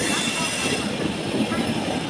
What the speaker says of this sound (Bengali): দেখো ট্রেন কিন্তু ঢুকে গেছে পাঞ্জাব মেল ঢুকে গেছে